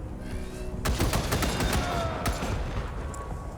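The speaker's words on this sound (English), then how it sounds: "on the next turn we'll get to fire our big gun on the tank" Heavy gunfire in the turn-based game Wasteland 3, a big gun firing on a tank: a dense burst of several sharp blasts after a quieter start, then one more crack, loud and close over a rumbling battle bed.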